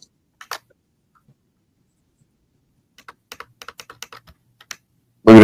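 A computer keyboard is typed on in a short burst of quick, close clicks after a near-silent pause, with one brief tap earlier and a loud sound cutting in at the very end.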